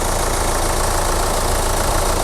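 A diesel engine in a Hyundai Tucson ix 2WD idling, heard steadily and closely from the open engine bay, with an even, continuous rumble and a faint knocking clatter throughout.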